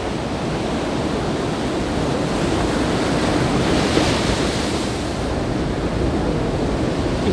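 Ocean waves breaking at Hiratsuka beach on the Shonan coast, a loud, continuous roar of surf with wind noise washing over the microphone, no voices.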